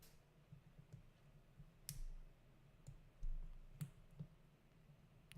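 LEGO pieces, including small tube parts, click and snap together in a few sharp, sparse clicks close by in a quiet room, with brief handling rustles between them.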